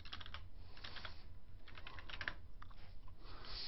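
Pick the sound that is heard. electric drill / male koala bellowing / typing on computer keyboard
typing on computer keyboard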